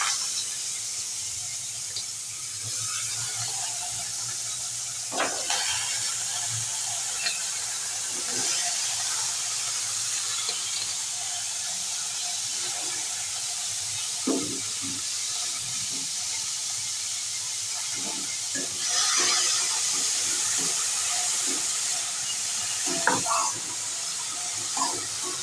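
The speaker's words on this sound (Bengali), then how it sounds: "এবারে কেটে রাখা সব সবজিগুলো তেলে দিয়ে দেব।" Chopped vegetables, added after a dried red chilli, fry in hot oil with a steady, fairly quiet hiss and sizzle, broken by occasional small pops and clicks of a utensil over about twenty-five seconds.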